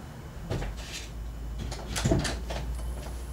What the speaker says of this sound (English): Let's shut the one inside the house.